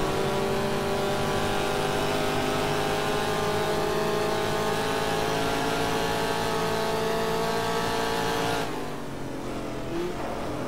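Race car engine roaring at sustained high revs down a straight in the racing game GTR2, a 1966 Trans Am car at Sebring, loud and steady with a shift in pitch near the end.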